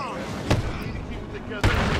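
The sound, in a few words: grenade explosion in the video game Batman: Arkham City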